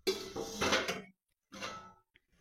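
A metal lid clatters onto a pot of potato curry with fish oil and chilli, two close bursts of metallic clanking separated by a short silence, followed by a faint small tap.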